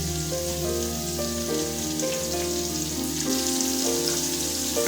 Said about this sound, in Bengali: এখন এটাকে আমরা প্রায় 3 মিনিট ধরে ভাজা করে নেব।